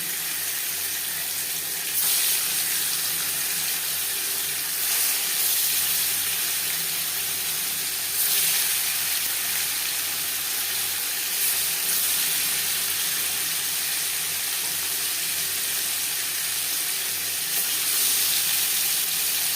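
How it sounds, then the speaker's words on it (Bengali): Paneer fries lightly in a wok with a continuous, even sizzle close by, swelling into louder bursts every few seconds as the pieces are turned, with no talking. "পনির আমি হালকা করে ভেজে নেব"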